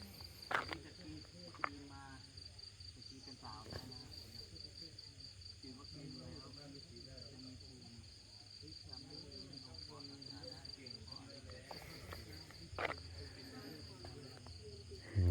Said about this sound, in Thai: เสียงน่าจะเสียงจักรจันนะครับ เสียงกบเสียงเขียด